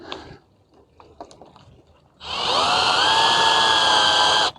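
A drill screwdriver drives a screw into a garden mirror: a few quiet handling knocks, then a close, loud, steady whirring motor whine for a couple of seconds that stops abruptly.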